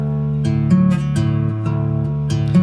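Plucked acoustic guitar repeating a short, Spanish-style low bass-note pattern with ringing strings, close and clear, with no voices.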